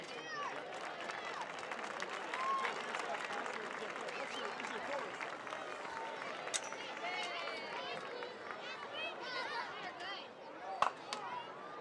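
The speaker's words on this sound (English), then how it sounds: "Have a round of applause for Kroger and Coke." A large crowd at a high school varsity football game applauds and cheers continuously for about twelve seconds, a dense, steady roar of clapping and voices with a few sharper shouts and claps near the end.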